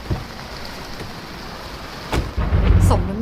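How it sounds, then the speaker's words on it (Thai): Heavy rain pours steadily outside a car, a constant hiss with soft thuds, broken by thunder: a sharp crack near the middle, then a loud, rolling rumble building toward the end. "ข้างนอกรถฝนมันกำลังตกหนัก"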